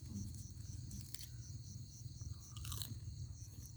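Someone eating outdoors beside a rice field chews crispy food, with soft crunching bites close to the ear, set against a steady backdrop of chirping insects and low rumbling ambience.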